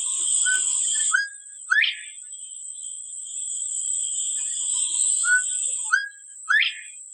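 A northern bobwhite quail gives slow, widely spaced whistled calls, each sharply rising syllable clear and close, heard twice over a steady high-pitched background tone.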